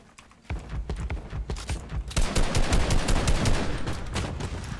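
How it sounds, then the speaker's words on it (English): Rapid bursts of video game gunfire crackle continuously at close range, a fast rhythmic volley that grows denser partway through. "He's shooting me."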